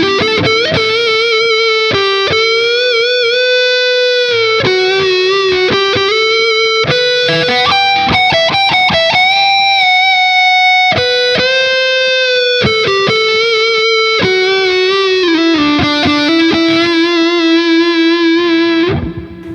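Backwing electric guitar through an effects chain, played on the neck pickup's mini humbucker with the tone knob rolled back halfway, giving a thick, creamy, mildly distorted sound: sustained melodic notes and bends, loud and close, with no voice.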